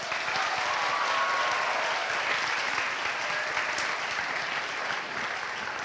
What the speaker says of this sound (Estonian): Teeme aplausi Martinile.